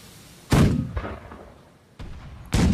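Ship cannons fire in The Last Leviathan video game, a loud booming blast with a long rumbling decay, followed by a smaller thud and two more heavy blasts near the end, with no talk.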